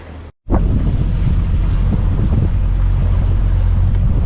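A boat powers through waves on the Illinois River, with a steady, loud roar of engine, rushing water and wind buffeting the microphone that runs on without a break after a brief dropout at the start.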